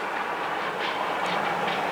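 An Adirondack Railroad train rolling along the rails near Remsen and Prospect, New York, gives a steady, close, continuous rumble and rail noise for the whole stretch, with no voices.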